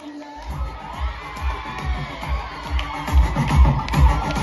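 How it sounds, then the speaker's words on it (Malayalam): Audience clapping and cheering at a college arts festival organised by a paramedical association, a dense crowd roar with rhythmic thumps that swells louder toward the end. "നല്ലൊരു കൈയടി കൊടുക്കൂ."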